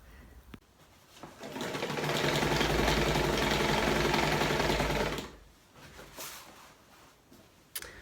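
A sewing machine stitching the canvas bottom panels and snow flap of a DIY hot tent teepee: a loud, steady mechanical whir runs for about three seconds, framed by quieter clicks and handling noise before and after.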